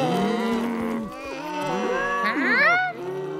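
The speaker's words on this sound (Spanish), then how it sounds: "¡Son solo vacas! ¡Y son vacas escocesas!" Cartoon Scottish Highland cattle moo in drawn-out, overlapping lowing calls, loud and close, with a higher rising call near the end, over faint background music.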